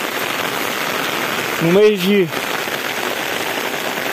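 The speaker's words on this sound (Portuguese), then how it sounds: "A chuva não está muito forte, mas é uma benção." Light rain falls steadily in the Brazilian sertão at Tanque Novo, Bahia, a soft continuous hiss throughout, with a brief voice speaking over it midway.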